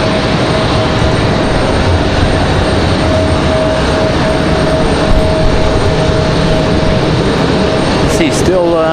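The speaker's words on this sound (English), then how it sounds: "Southwest going to touch down again over there" A Southwest airliner touches down at Raleigh-Durham in gusty wind, a loud, steady engine rush with a faint tone running through it, and voices talking nearby.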